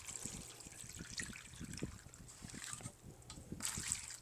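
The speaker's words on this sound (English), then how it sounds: "and fill them halfway with water" Water trickles and splashes as it is poured into seed tray reservoirs for an indoor seed-starting setup, a faint, close, continuous dribble with small irregular splashes.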